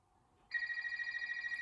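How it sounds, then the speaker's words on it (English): A Crusader Frog Phone model FF518 landline flip novelty telephone ringing with a bright electronic warble that starts suddenly and continues evenly, faint and alone in a quiet room. "this is a Crusader Frog Phone model FF518 landline flip novelty telephone"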